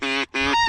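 Birds calling overhead on a snowy day give two loud, harsh honking calls close by, goose-like, with a short gap between them and no talk.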